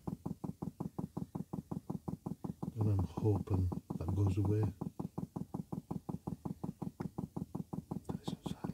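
A Chinese diesel heater's fuel pump ticks in a fast, even rhythm, picked up near the floor, the regular clicks continuing steadily throughout while someone speaks briefly over them midway.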